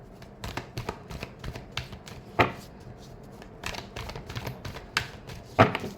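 A deck of tarot cards is shuffled close up in bursts of sharp, flicking riffles and snaps, with short pauses between bursts and no talking.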